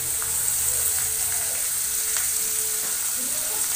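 Sliced onion and green chillies sauté in hot oil with a bright, steady sizzle and occasional light stirring clicks, continuous and close with no talking.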